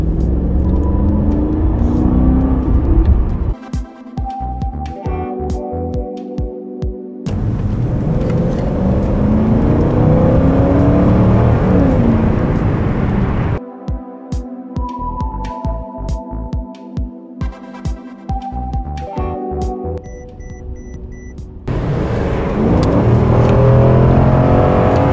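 Mercedes-Benz W220 S500 with a V8 engine, revved repeatedly: loud, close bursts of rising engine roar alternate with choppy, stuttering stretches, with no talking.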